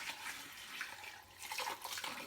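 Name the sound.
rinsing rice with water in a pitcher by hand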